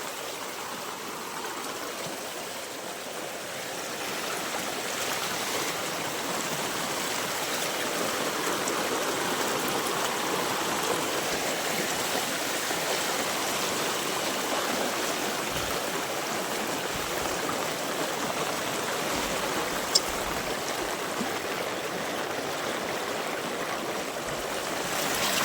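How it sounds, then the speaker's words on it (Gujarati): Rainwater after heavy rain flows like a stream over the ground, making a steady, full rushing and gurgling wash that holds at an even level throughout and sounds close by. "જોઈ લો મિત્રો પાણી આવે"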